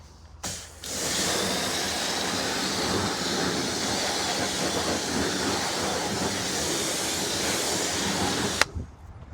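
Pressure washer blasting wheel cleaner off a car wheel on a cheap abandoned barn-find Mini convertible, a loud continuous hissing spray that starts after a brief burst and runs steadily for several seconds before cutting off.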